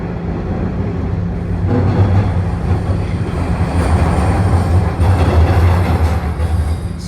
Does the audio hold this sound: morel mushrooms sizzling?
no